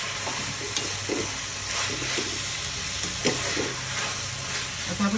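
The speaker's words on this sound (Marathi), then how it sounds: "एकदा परतून घेऊया" Mushrooms stir-fried for mushroom chilli dry, a steady sizzle under repeated scraping spoon strokes in the pan, close and moderately loud, without talk.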